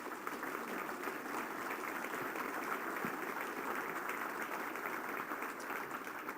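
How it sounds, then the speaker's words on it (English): An audience at a breakfast forum for state Senate candidates applauds, a steady, fairly distant wash of clapping that holds evenly for several seconds. "Can we have a round of applause for our candidates?"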